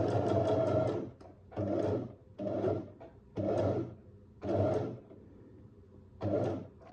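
A sewing machine stitches a rounded shirt cuff in six short bursts of whirring separated by brief pauses, close and fairly loud, with no voices.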